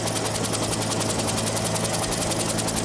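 A helicopter turbine engine runs steadily with its blades spinning, a loud, close, continuous whine over a rapid, even rotor chop with no pauses.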